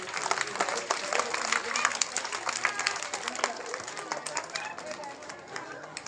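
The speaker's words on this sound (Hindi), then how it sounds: "इसके लिए भी तालियां होनी चाहिए।" Audience at a primary and high school medal award ceremony in Achalpur claps in a dense, sustained round of applause, with crowd chatter mixed in.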